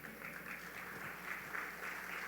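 A church congregation applauds together, a steady wash of clapping held at a distant, faint level for the whole two seconds.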